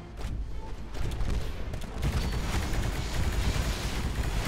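Enemy gunfire in the video game Titanfall, a continuous roar of rapid shots and explosive rumble that intensifies midway and keeps going, loud and close, with no talking.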